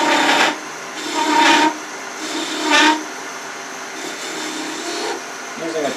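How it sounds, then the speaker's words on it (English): Spindle gouge of 3/8 inch shaping a wooden kitchen spatula on a lathe, rough scraping cuts that swell and fade in bursts over a constant motor hum. "Using a 3/8" spindle gouge."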